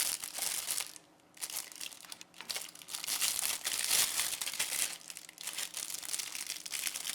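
Plastic packaging around graphite pencil sticks crinkles and crackles close up, loud bursts of crumpling with a brief quiet pause before continuing steadily, no talking.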